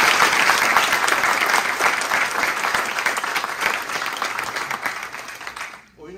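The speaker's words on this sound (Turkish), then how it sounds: "Onlar için de ben kocaman bir alkış." Loud, sustained applause from a theatre audience at a play premiere in Tarsus, dense clapping filling the hall before fading out at the end.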